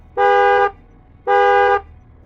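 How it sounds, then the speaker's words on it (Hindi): A car horn sounds two loud, identical honks, each about half a second long with a short pause between, alone over a quiet background. "सनी ने हॉर्न बजाया"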